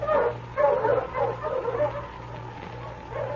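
Husky sled dogs yip and bark in quick overlapping bursts over a steady low rumble, fairly close, with no talking.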